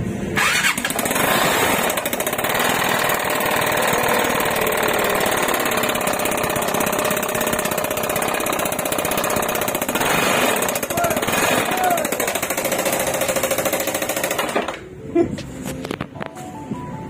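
A damaged Vespa Sprint scooter engine, run late on an oil change, runs loud and rough, with a harsh, hammering clatter that holds steady for about fourteen seconds before cutting off, followed by softer knocks.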